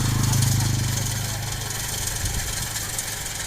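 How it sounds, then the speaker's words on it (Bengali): A rice harvesting machine cuts paddy in a field, its mid-pitched engine chugging loud and close with a steady throbbing rumble and rattling vibration, while someone talks over it. "আর এই মেশিন দ্বারা খুব তাড়াতাড়ি ধান কাটা হয়।"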